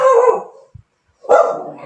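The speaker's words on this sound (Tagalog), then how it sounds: "maingay itong aming aso" A dog barks twice, close and loud, with a short silent gap between the barks.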